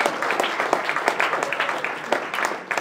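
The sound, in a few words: audience applause at a game developer meetup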